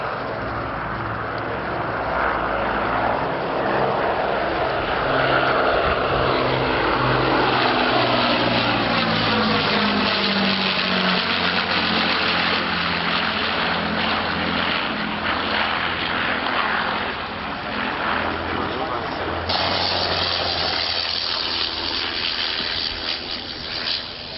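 A vintage propeller aircraft's engine drones loudly at the Old Warden air display, a continuous airscrew roar with a pitch that sweeps down as it passes, heard alone.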